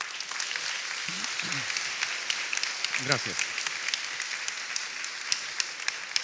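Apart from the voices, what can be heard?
audience applause in church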